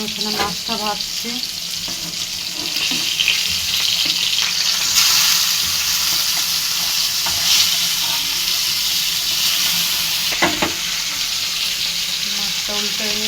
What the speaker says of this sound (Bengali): দেখুন আমি এখানে মাছটা ভাজছি।